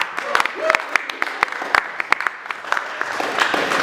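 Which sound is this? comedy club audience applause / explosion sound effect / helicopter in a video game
comedy club audience applause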